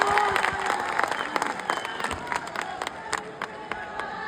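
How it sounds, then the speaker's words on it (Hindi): Crowd applause and cheering at a Bhojpuri film star's public event, dense rapid clapping with sharp peaks and scattered voices, loud throughout. "एकदम ताली हो जाए गुरु।"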